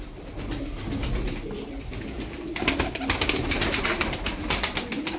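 Ankara tumbler play pigeons coo and shuffle close by, soft throaty calls rising over a low background hum, with a brief flutter of wings.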